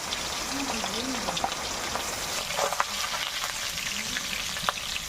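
Pond fish sizzle steadily in hot oil in a home kitchen, a dense, close crackling hiss with occasional sharper pops, while a voice murmurs faintly in the background.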